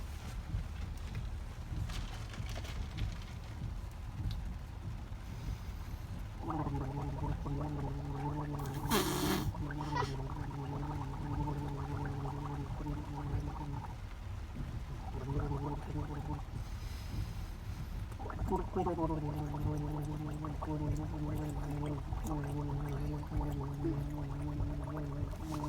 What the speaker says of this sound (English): So I'm going to take a sip, I'm going to gargle, and I'm going to rub my ears